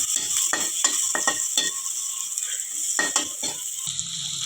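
Potato curry cooking in a pan over a medium flame, with a steady sizzle under repeated stirring and scraping strokes of a utensil against the pan, close and moderately loud.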